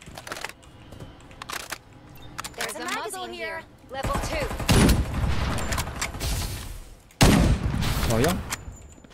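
Rapid bursts of gunfire in the battle royale game Farlight 84, dense volleys under game voice lines and a player's chatter, with loud shots near the start and again in heavy salvos from the middle on.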